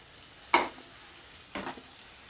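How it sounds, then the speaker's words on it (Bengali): Tomato and pointed gourd frying in a pan are stirred twice, each a short close scrape and sizzle burst over a faint background hiss. "একটু আমি নাড়াচাড়া করে ঢাকা দিয়ে দেবো।"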